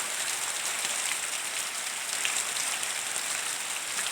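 Steady heavy rain pours down on surfaces on a morning in rural Bueng Kan, Thailand, a dense continuous hiss with no voices.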